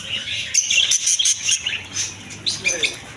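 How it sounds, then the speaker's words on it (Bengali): Budgerigars chirp and tweet in a bird shop, a busy overlapping chatter of short high calls that keeps going without a break. "এদিকে আছে অসংখ্য বাজরিক পাখি"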